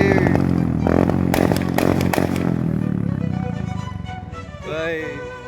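A motorbike engine coughs and sputters with loud irregular pops, then catches into a rough running idle that fades somewhat before a rising rev near the end, close by, with people talking nearby.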